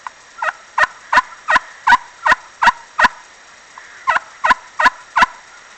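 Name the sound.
turkey call device imitating turkeys, changed setting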